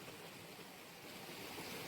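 Water flowing in a stream by a small waterfall on a family outing to Sonda near Sirsi, a steady broadband rush and splash that swells slightly toward the end, with no voices.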